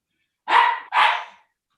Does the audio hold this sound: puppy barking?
yes